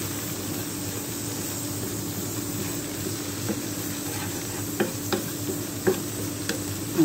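Egg being scrambled and stirred in a frying pan, a steady low sizzle with occasional soft scrapes and taps of the utensil against the pan, no voices.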